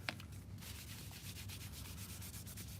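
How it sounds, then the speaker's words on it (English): Light hand sanding with P500 sandpaper scuffing an Infiniti G37 Coupe pillar trim piece, a quiet steady rubbing scratch in short repeated strokes, close and alone. "I'm gonna hit it with a light coat of sandpaper"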